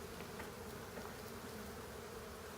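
Honeybees in a hive with wooden bars and a follower board buzz in a dense, steady drone during an inspection, close and continuous with no voices.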